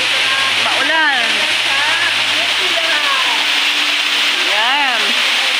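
Artificial rain pours steadily in a rainforest garden as a loud, constant broadband hiss of falling water, while voices talk over it.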